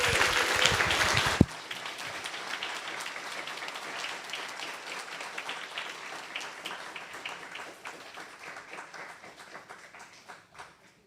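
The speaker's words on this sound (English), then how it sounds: "Congregation, will you please give a round of applause for our newest members?" A church congregation applauds new members at a Sunday service, a loud burst of clapping at the start that settles into steady, fading applause across the room.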